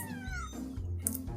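A bottle-fed kitten gives a loud, close meow that rises and falls, followed by a shorter second cry, with no one talking over it.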